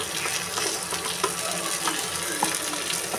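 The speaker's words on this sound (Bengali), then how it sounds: "তো আমি এটাকে এখন কষিয়ে নিব" Masala paste sizzles and crackles steadily as it is stir-fried in a pan after the meat has been fried and lifted out, with a few light spoon scrapes rising above the continuous hiss.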